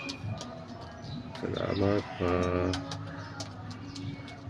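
Pigeons cooing in a loft, several low rolling coos with a couple of stronger bursts in the middle, close by over a soft background of other bird sounds.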